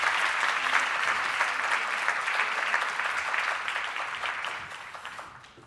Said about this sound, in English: let's give Dr. Elena Bischak a big round of applause